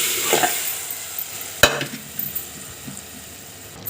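Boiled ridge gourd and chana dal curry is tipped into a pan of fried onions and curry leaves and stirred, with soft sizzling, scraping and a sharp clank of utensil on pan.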